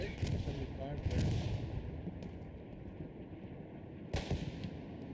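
Artillery blasts and gunfire boom in a Hell Let Loose battle around a destroyed tank, with two sharp nearby explosions over constant low battlefield rumble and faint chatter.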